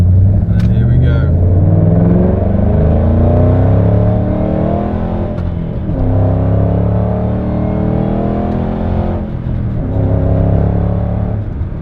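A supercharged 5.4-litre V8 Shelby GT500 SVT accelerates hard in second gear, its deep engine roar climbing steadily in pitch with a layered whine. Loud and close, heard from inside the car.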